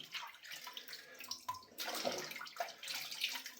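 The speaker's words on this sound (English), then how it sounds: "We'll do in the fresh clean water." Rinsing in fresh clean water at close range, with splashing and trickling in uneven bursts and no voices.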